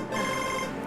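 A telephone rings again, a loud, close electronic ring tone that holds steady for about a second before cutting off, with no voices over it.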